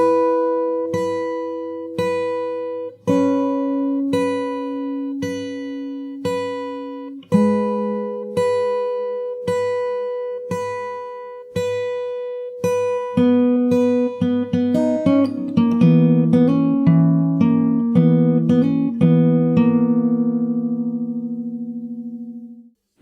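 Guitar plays the intro leading into the verse of a freestyle remix, with clean picked chords ringing in a steady repeating pattern that gets denser near the end, then fades out, solo with no voices.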